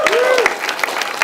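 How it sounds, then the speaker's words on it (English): Audience claps for disability film challenge finalists, a burst of applause with a voice carrying over it. "round of applause for all of you"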